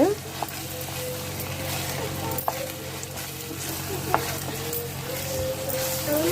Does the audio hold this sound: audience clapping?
no